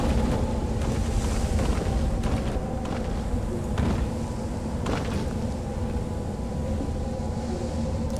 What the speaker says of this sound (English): The storm's not gonna get us this time